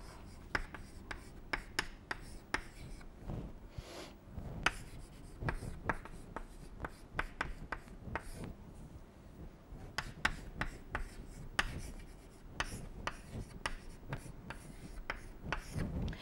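Pen or chalk writing during a thermodynamics lecture, a steady run of quick scratchy strokes and taps that stays close and fairly quiet, with brief pauses between bursts and no talking.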